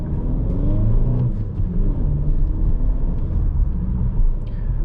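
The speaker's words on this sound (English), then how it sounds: "I'm gonna speed up here a little bit." A 2020 Audi A3 Sportback accelerating on a road at night, heard from inside the cabin as a steady, loud engine and road rumble that swells slightly as it picks up speed.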